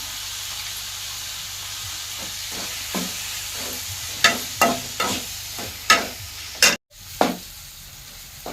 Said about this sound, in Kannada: ಎಲ್ಲ ಹಾಕಿ ಇವಾಗ ಫ್ರೈ ಆಗೈತೆ ನೋಡ್ರಿ